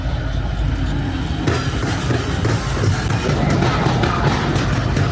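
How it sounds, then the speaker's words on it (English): A train rumbles loudly past an unguarded railway crossing in Hungary, a heavy, continuous low roar with rattling and clanking close by, and no talk. "We almost got killed by a train in Hungary."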